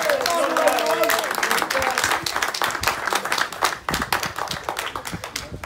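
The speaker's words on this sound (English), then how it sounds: "I just want a big round of applause for all those who've travelled far distances to be with us today" A crowd at a political rally gives a big round of applause, sustained dense clapping that tapers slightly toward the end, with a voice briefly audible at the start.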